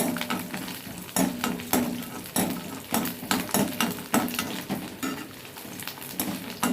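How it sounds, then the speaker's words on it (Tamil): Ten to fifteen garlic cloves sizzle in hot oil for pirandai chutney, with a steady frying hiss broken by regular, close scraping strokes of a spoon stirring against the pan. "இந்த எண்ணெயில் சேர்த்து அதை நல்லா பொரிய விட்டு வதக்கணும்"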